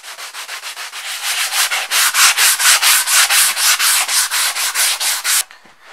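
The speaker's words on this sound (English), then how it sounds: "I can't stand the sound of sanding." Sanding a hot-wire-cut foam wing by hand, with loud, close, rhythmic rasping strokes about four per second that grow stronger and then stop abruptly.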